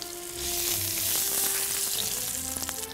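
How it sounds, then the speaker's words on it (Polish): Pork tenderloin sears in a frying pan with a steady, close sizzle that holds throughout, with no one talking over it. "Obsmażamy z każdej strony."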